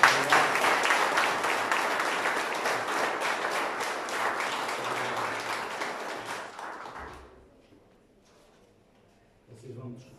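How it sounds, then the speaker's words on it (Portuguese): Loud, sustained applause from an audience greeting a candidate at the opening of a campaign headquarters, lasting about seven seconds before cutting off into near silence, with a brief voice at the end. "Uma grande salva de palmas."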